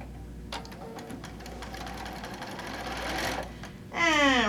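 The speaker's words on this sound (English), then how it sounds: "And we're going to stitch this down" A sewing machine stitching quilt fabric at a quarter-inch seam, a steady close mechanical whir with rapid needle ticking, ending with a brief higher buzz.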